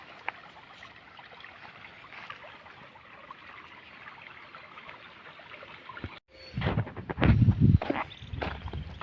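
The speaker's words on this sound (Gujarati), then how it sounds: "તો કેરામાં આ રીતે પાણી જાય છે." Water flowing through an irrigation channel in a jowar field, a quiet steady trickle that turns into louder splashing and rustling near the end.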